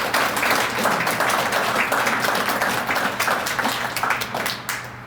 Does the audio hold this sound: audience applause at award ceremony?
yes